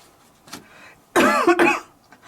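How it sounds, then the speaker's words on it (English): A single person coughs twice in quick succession, close and loud, after a faint throat sound and near silence. "Sorry, I still have a bit of a cough."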